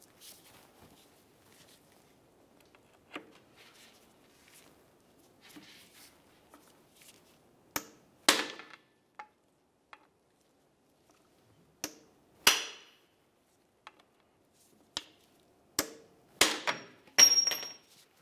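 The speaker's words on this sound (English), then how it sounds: "we'll try pressing this out of the vehicle with our hammer" Sharp metallic hammer strikes ring out irregularly, driving an axle stub shaft out of the differential of a 2005-2010 Dodge Dakota, a few single blows then a quicker cluster near the end, close by with quiet clinks between.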